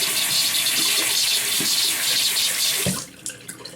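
Water runs steadily from a bathroom tap while a shaving brush is wetted beneath it, with a continuous close splashing that stops abruptly, followed by a few small drips and handling sounds.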